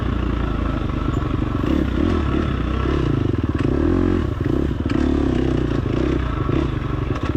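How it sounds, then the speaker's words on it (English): A dirt bike engine sputters and chugs unevenly close by on a hot, dusty ranch trail, its idle rough and faltering as if about to stall, with rattling clatter. "You hear that engine, it keeps wanting to stall."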